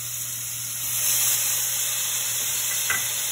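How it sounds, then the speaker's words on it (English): Garlic hitting a hot pan of vegetables and frying, a steady sizzling hiss that swells and holds close up, with a light scrape of stirring near the end. "Now we're going to add our garlic."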